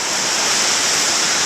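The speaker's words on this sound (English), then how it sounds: "we have come down to the creek to find some little unnamed waterfalls" A small unnamed waterfall in a bush creek gives a steady, loud, close rush of splashing water, unbroken for the whole stretch with no voices.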